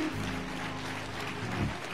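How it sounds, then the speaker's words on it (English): Broad, wash-like clapping from a church congregation at a funeral and home-going service, sustained and fairly distant, blended with low organ or music tones throughout. "Clap those hands for Jesus."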